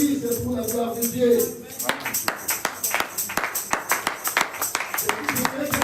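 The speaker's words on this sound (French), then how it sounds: "Je veux que les saints applaudissent pour la gloire de Dieu" A church congregation claps hard together in a steady, rhythmic beat that grows louder and more regular, with voices mixed in underneath.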